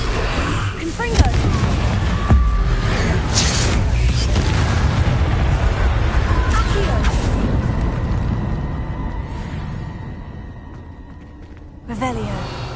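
Hogwarts Legacy spell combat in a video game: rumbling booms and bursts from Incendio and Confringo explosions fill most of the stretch with sustained noise, then fade before a fresh blast near the end, with voice lines over them.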